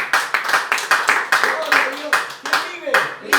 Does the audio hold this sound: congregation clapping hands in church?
yes